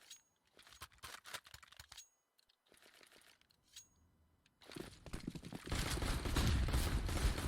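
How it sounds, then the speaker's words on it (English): Rapid gunfire from a Counter-Strike: Global Offensive match in an ESEA Advanced quarter-final, with bursts of shots and clicks, brief gaps, then dense, louder sustained firing building near the end. "Just ran out of bullets in that magazine as he tried to take down Surreal"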